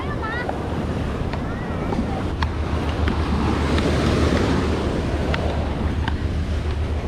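Surf rolling onto Ipanema beach in Rio de Janeiro, a broad continuous wash of waves with heavy wind rumble on the microphone, close and steady, with faint distant voices in the background.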